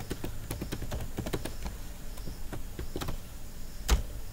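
Someone typing a password on a computer keyboard, a run of quick, light key clicks in an uneven rhythm, close and clear with a soft room hiss behind them and no talking.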